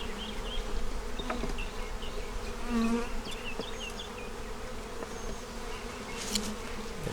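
Honeybees buzz steadily at an open hive, a dense, continuous drone from many insects close by with individual bees zipping past, no voices.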